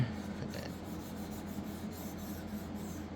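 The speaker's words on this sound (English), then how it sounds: "And that is how you're going to sharpen it. Just like that." A knife blade clamped in a TSPROF Kadet sharpener is stroked against the abrasive stone, giving a steady, gritty rasping that carries on continuously at close range with no talking.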